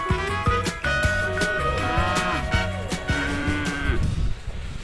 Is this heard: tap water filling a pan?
no